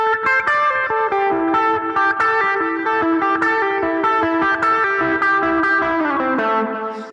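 An electric rock guitar lick from a solo loops a rolling, repeating note pattern, with distorted tone and picked attacks recurring steadily, loud and alone before a final sustained note fades out.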